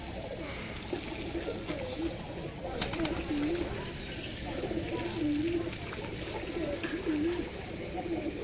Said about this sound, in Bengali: এটা একটা বন কবুতর।